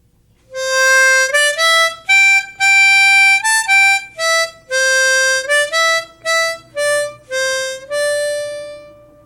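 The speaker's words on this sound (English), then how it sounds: "Probably the simplest song to play on the harmonica is Oh, Susanna." A harmonica plays the melody of Oh, Susanna as clean single notes in a bouncy phrased rhythm, close and loud with no talking.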